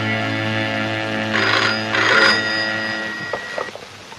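An old-style telephone bell rings in two loud bursts over a sustained musical drone, followed by a few faint clicks as the receiver is handled.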